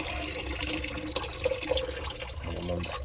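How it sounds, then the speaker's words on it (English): Water is poured out of a whole-house water filter housing, a short splashing, gurgling stream of liquid, close and fairly loud. "let me pour some of this water out"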